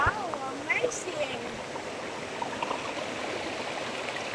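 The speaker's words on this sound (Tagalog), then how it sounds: "Yun, ito na yung falls." Talon Santol waterfall in Barangay Narvaez, Bailen, Cavite, a steady broadband rush of falling water close by, filling the whole stretch while voices speak briefly at the start.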